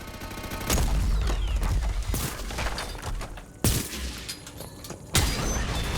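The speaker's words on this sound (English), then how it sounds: "I was beginning to wonder if he was actually going to start shooting it" A combat mech in Mass Effect 2 opens fire, loud bursts of heavy gunfire with sharp booming shots punctuating a sustained rattling barrage that continues throughout.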